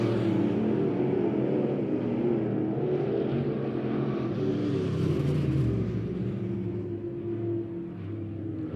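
Loud, continuous roar of IMCA Modified race cars circling a dirt speedway during a heat race at Monett Motor Speedway, engines droning and swelling steadily as the pack passes, no voices on top.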